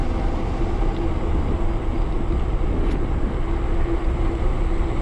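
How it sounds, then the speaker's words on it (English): Metakoo Cybertrack 300 e-bike ridden at full throttle on level ground, a loud steady rush of wind and road noise with a faint motor whine throughout. "Let's see up here on the level ground with just throttle. Full throttle, PAS 5."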